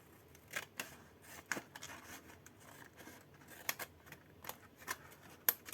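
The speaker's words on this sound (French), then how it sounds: "je coupe le centre jusqu'à la pointe du triangle" Scissors cut paper for a scrapbooking Christmas tree box, making sparse, soft, crisp snips and rustles at an uneven pace, quiet and close, with no speech.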